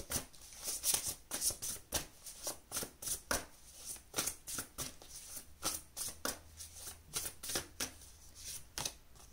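Tarot cards being shuffled and drawn from the deck, a close run of quick papery riffles and slaps in an uneven rhythm, with no talking.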